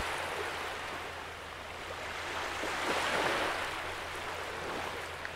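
Sea waves washing continuously onto the shore, a steady broad surging roar with gentle swells in intensity and a low wind rumble beneath, no voices present.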